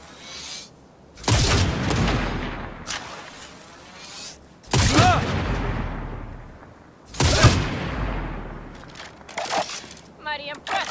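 Three heavy bursts of gunfire ring out in the video game Cyberpunk 2077, each a loud, booming volley that decays over a couple of seconds, with shouting voices and game sounds in the gaps.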